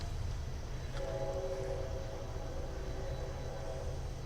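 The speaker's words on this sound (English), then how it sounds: "Oh, the train came in." An arriving train rumbles steadily nearby with a low continuous roar, and a faint tonal horn-like hum sits over the rumble.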